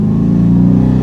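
Dodge Charger Daytona exhaust droning loudly and steadily under acceleration, a close, dense low rumble throughout.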